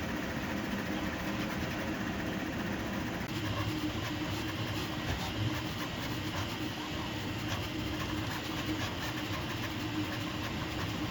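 A Prusa MK4S 3D printer with an MMU3 multi-filament unit runs steadily nearby, putting out a constant mechanical hum and whir with small stepper-motor fluctuations and no pauses.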